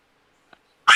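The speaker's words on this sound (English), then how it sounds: "That's my dog's yapping." A Chihuahua and Jack Russell terrier mix dog lets out a single loud, sharp yap close by indoors, following a tiny faint click in near silence.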